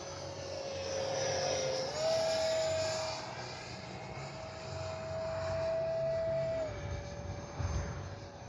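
A T-33 RC model jet with a 50mm ducted fan flies past, a steady high-pitched turbine whine that shifts pitch as it passes, loud and continuous against faint outdoor background.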